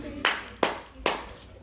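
Three sharp, loud hand claps spaced about 0.4 seconds apart, each ringing briefly in a room over faint background noise.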